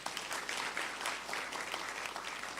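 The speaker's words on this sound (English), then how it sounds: "Let's give our honourable guests a round of applause." Sustained applause from an audience honouring guests at a leadership podium anniversary event, a steady dense patter of many hands clapping, moderately distant and continuous throughout.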